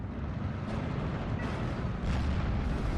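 An incendiary artillery strike rumbles in the Steel Division 2 wartime strategy game, a dense, continuous low roar of fire and blasts with faint overlapping bursts, loud and heavy throughout.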